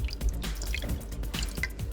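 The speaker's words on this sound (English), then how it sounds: "Take some beetroot juice, put it in a pot." Beetroot juice poured into a pot at a cold winter campsite, a steady liquid trickle with small dripping splashes, close and fairly quiet throughout.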